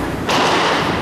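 A candlepin bowling ball thrown into the gutter at a bowling party, one sudden loud thud followed by a sustained rumbling roll close by.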